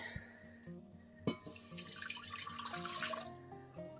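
Water pours from a kitchen tap to top up a measured amount for a pot while making caramel apple jam, a steady, fairly quiet rush with a faint drip and clink near the start.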